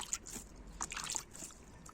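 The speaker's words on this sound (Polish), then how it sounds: "Biorę wodę i trzeba wszystko zwilżyć." Water trickles and splashes onto earthworm bedding as it is moistened in a worm-rearing box, with short irregular sloshing bursts close to the microphone.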